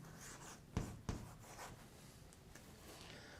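Chalk or marker writing on a board during a physics lecture, a few quick taps and scratchy strokes followed by lighter scribbling, close and fairly quiet with no talking.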